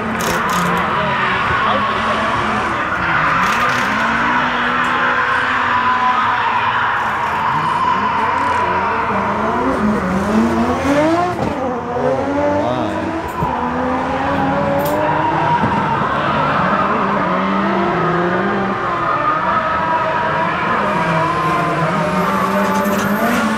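Drift cars at a Japanese drifting event roar and rev continuously with squealing tires, a loud, dense racing din that never lets up, with faint crowd voices mixed in.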